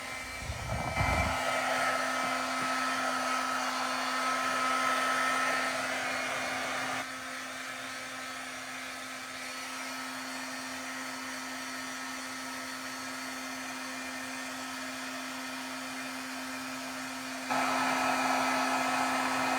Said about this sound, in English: bear with me while I get my heat gun going